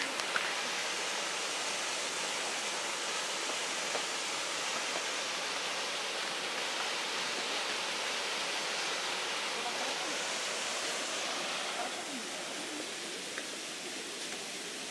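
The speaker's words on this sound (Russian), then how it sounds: "Дошли до водопадика здесь." A small waterfall on the mountain trail up Adam's Peak, Sri Lanka, pours in a steady, even rush, continuous and fairly close, with no voices over it.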